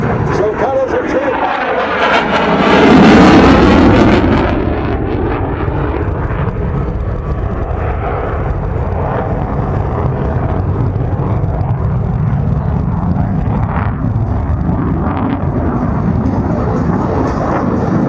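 An F/A-18F Super Hornet jet flies an airshow demo at Fort Worth Alliance, its loud, continuous roar swelling as it passes and then settling into a steady, rumbling jet noise that fills the whole stretch.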